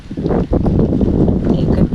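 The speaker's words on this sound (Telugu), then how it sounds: "చూడండి చల్లటి గాలి కొడుతుంది" Cool wind gusts during unseasonal rainy weather in the hot season, roaring steadily into the microphone as a loud, continuous low buffeting rumble across the whole stretch.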